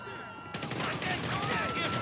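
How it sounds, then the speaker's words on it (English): Rapid bursts of gunfire during a night-time SWAT patrol in GTA 5's Los Santos ghetto, dense crackling shots running continuously under excited voices. "What are you guys shooting at?"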